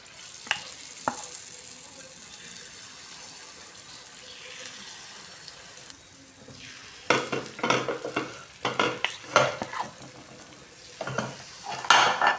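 Rice flour batter poured into an oiled kuli paniyaram pan, sizzling steadily with scattered clinks early on, then a run of louder bursts and scraping clatter in the second half as the cavities fill.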